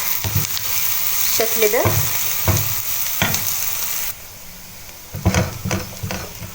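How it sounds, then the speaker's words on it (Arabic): Onions sautéing in a frying pan while being stirred, a steady close sizzle broken by several scraping strokes of the utensil, with a brief moment of speech near the start. "هكمل في التقليب بالشكل ده. هديهم بقى تشويحة حلوة لحد ما البصل ياخد اللون الذهبي الفاتح"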